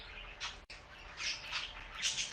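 Pet birds indoors give faint, repeated squawks and chirps, scattered bursts in a quiet room with no one speaking.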